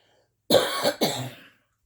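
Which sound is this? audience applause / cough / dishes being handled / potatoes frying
cough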